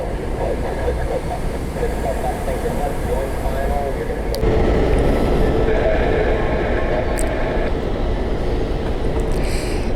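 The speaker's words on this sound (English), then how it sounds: "Got a light rail passing through." A light rail train rolls past at Orlando International Airport, a steady rumbling rush with rail clatter growing louder midway, while a voice talks over it.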